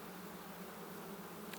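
Honey bees buzzing around an open hive in Norfolk: a dense, continuous hum of many wings, steady and fairly close, with no voices.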